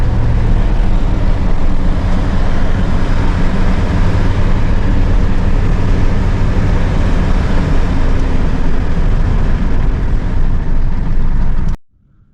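A truck with a 6.2 engine and a Banks turbo drives along, giving a loud, continuous low rumble and broadband road roar that holds steady for about twelve seconds before cutting off abruptly.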